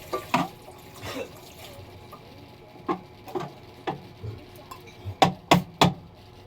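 Mangoes washed under running tap water, heard as soft intermittent splashes and patters, faint and close, spaced irregularly and growing sharper toward the end, with no talk.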